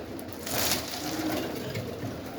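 Pigeons coo softly inside a loft, a low murmuring under faint background noise, fairly close and steady.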